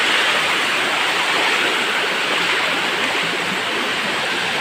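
Close, loud, steady rush of flowing creek water, a continuous broadband hiss with no voices or breaks.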